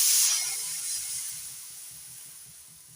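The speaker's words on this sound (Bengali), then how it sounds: "কাঁচা লঙ্কা দিয়ে নাড়াচাড়া করে নিলাম" Slit green chilies stirred through a hot pan give off a steady, close sizzle and hiss, loudest at the start and easing gradually, with faint scraping from the stirring underneath.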